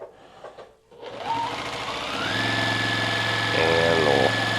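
Sewing machine running steadily while stitching quilt strips with a quarter-inch seam for a hexagon log cabin block, a continuous motor whir that settles into a louder, even hum, with some talking underneath.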